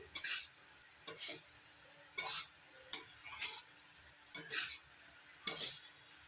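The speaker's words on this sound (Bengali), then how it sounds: "এবার সব কিছু একসঙ্গে ভালো করে মিশিয়ে নিচ্ছি" Pasta being stirred with chopped coriander leaves in a pan, egg pasta cooked at home: six separate scraping, clinking strokes of a utensil against the pan, each short and fairly close, with quiet gaps between.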